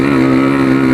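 Yamaha RX King motorcycle with an aftermarket exhaust, giving a brief, loud, sustained engine note with a strong, even tone held close by for about a second.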